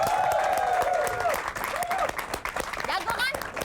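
Studio audience applause at an Indonesian comedy show, a dense wash of clapping running throughout with voices and a whoop-like call rising over it.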